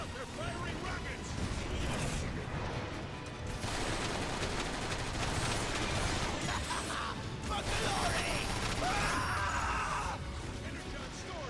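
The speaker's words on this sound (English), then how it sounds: "Watch out, they're firing rockets!" Enemy rocket fire in the Transformers: War for Cybertron video game, a dense, continuous barrage of blasts and gunfire that stays loud and busy throughout, with voices talking over it.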